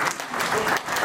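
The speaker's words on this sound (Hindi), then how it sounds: "एक बार जोरदार तालियां।" An audience at a Doctors Day ceremony held by Mahaveer International bursts into brief, dense applause, a continuous wash of many hands clapping together at moderate loudness.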